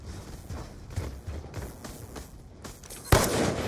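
Several quick gunshots in a first-person shooter during trickshotting, spaced irregularly at moderate volume, ending with one sharper, louder shot near the end; no speech.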